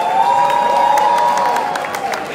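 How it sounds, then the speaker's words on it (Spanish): A crowd at a Bogotá queer festival closing gala applauds and cheers, a steady wash of clapping with a sustained tone running underneath. "Aplausos para la gala número 7."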